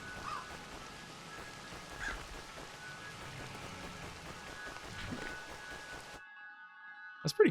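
Steady rain falling indoors in the video game Crow Country patters across a surface for several seconds, then cuts off abruptly into near silence before a couple of short sharp noises at the end.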